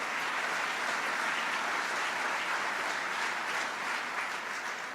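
Audience applause at a Buffalo State of the City speech, a dense, steady wash of many hands clapping in a large hall, sustained and fairly loud for several seconds with no talking.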